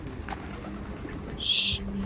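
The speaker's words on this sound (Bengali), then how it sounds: "যার মধ্যে এই সমস্ত পায়রা আছে" Pigeons coo softly in a loft against steady background noise, with a brief brighter call near the end.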